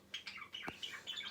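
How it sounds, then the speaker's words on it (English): Small songbirds chirp and tweet outdoors in the morning, a string of short bright calls repeating at close range with a few overlapping voices and no talking. "I don't know why the birds are shouting this morning, but they are"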